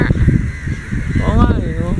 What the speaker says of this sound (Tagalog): dami uwak.